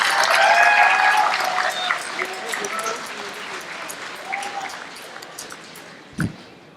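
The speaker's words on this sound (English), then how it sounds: "A huge round of applause for each of the graduating class of 2018." At a 2018 university convocation, a large hall audience applauds the graduating class; dense clapping starts loud, then slowly thins and fades, with a faint voice briefly audible near the end.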